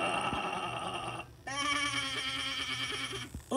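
A cartoon character voices a sheep's bleat, a pair of nasal, wavering 'baa' calls, loud and close, separated by a brief gap of silence.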